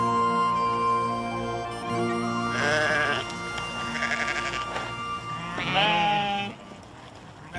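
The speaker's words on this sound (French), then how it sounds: "Ces moutons appartiennent à une race domestique très ancienne, parfaitement adaptée aux conditions rudes des montagnes écossaises." Sheep and lambs of an ancient domestic breed from the Scottish mountains bleat in several overlapping, wavering calls at close to moderate distance, with no voices present.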